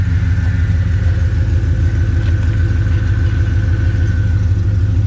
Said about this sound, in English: it's a good sounding car